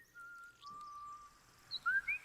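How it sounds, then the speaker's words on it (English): A Baldur's Gate 3 character whistles a brief melody, a sustained note followed by a few quick, chirpy higher notes, fairly faint over quiet game ambience. "Oh, we can just whistle that."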